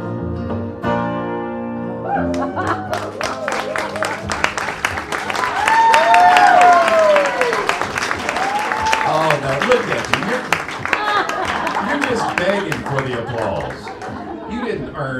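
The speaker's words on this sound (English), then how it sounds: "they started clapping before I started waving my hat" Audience applause and clapping at a live country concert at The Station in Louisville, Tennessee, with loud, dense clapping mixed with cheers and someone talking over it, swelling midway and holding steady to the end.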